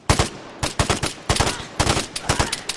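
Gunfire in Vigor on PS5, loud rapid bursts of automatic shots in short clustered volleys with brief gaps between them, close and sharp.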